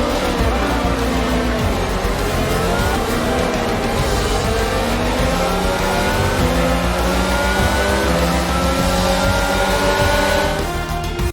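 A Formula 1 car in the F1 22 video game driving back after a race: a loud, close engine note rising and falling through gear changes, revving steadily across the whole stretch with no talk.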